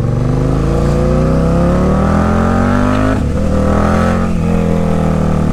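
KTM Super Duke 1290 R sport motorcycle engine revving loud and close, a steady high-pitched roar rising in pitch, dipping briefly around the middle, then climbing again.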